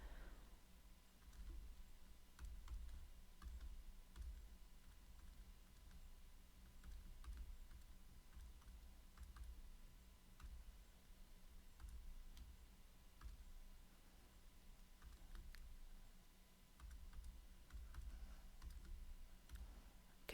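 Quiet, continuous typing on a computer keyboard, a steady patter of soft key clicks with brief pauses, close but faint.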